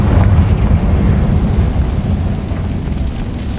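A Confringo blasting spell in Hogwarts Legacy sets off a loud, deep boom. It hits at once, then rumbles and slowly fades over a few seconds.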